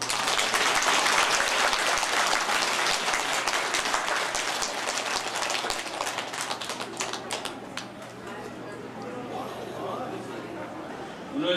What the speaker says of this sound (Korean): 인사를 올리면 박수로 화답해 주시기 바랍니다